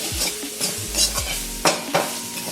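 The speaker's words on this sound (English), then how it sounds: "I'm gonna use my little wok handle here and kind of mix it up a little" Garlic aromatics are stirred in a hot wok, giving a steady sizzle of frying with several scraping strokes of the utensil against the pan, fairly close and with no talking.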